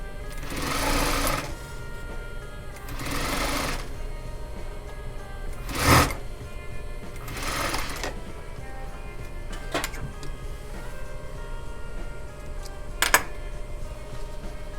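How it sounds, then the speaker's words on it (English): Sewing machine stitching a double welt pocket, running in several short bursts along a previous stitch line, with quiet pauses and handling noises between runs, close and clear. "so we can go right on our previous stitching line"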